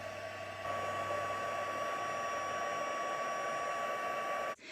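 An embossing heat tool blows steadily over embossing powder on a Mercury Glass and Hydrangea Haven craft project, a continuous loud whirring hiss that stays even for several seconds and then cuts off abruptly near the end.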